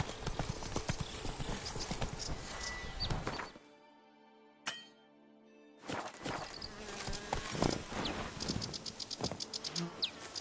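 Steady clip-clop of Roach the horse's hooves in The Witcher 3, a close rhythmic trot with a buzzing insect-like ambience, pausing briefly midway before resuming.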